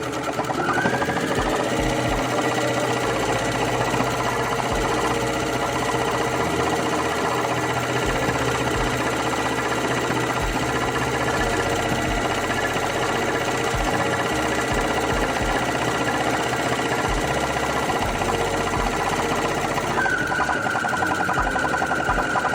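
A Juki HZL-HT740 household sewing machine runs a memorized stitch pattern. Its steady, loud mechanical whirr and needle rattle continue without a break for over twenty seconds, with small shifts in tone as the pattern cycles.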